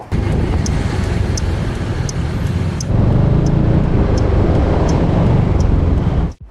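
Steady, regular clicking of a Zontes 350 motorcycle turn signal over a constant engine and road rumble, roughly two clicks per second, ending abruptly.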